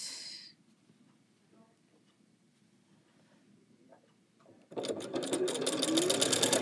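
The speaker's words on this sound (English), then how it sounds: "I'm going to bring it over under my sewing machine here." After a few seconds of near silence with faint handling noises, a sewing machine starts up sewing binding and runs steadily, its rapid stitching loud and close.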